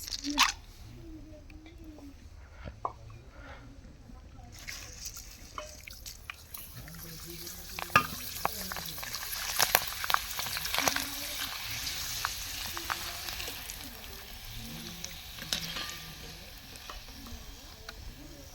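Beef tripe fries with homemade spices in a village-style kitchen, a faint crackling sizzle with occasional stirring scrapes running under a person talking intermittently.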